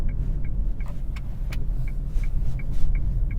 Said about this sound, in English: we're pulling into the gym / McDonald's entrance